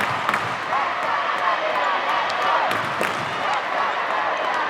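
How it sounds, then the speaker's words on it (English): A loud, dense crowd chants and roars steadily throughout a women's netball match between Namibia and South Africa, with scattered claps and thuds rising through the din. "the crowd here is going crazy, chanting for Namibia"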